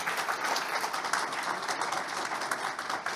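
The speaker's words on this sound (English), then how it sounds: "they deserve a round of applause and standing ovation" Steady audience applause at a political activism panel event, a dense wash of many hands clapping throughout at moderate level, with no speech over it.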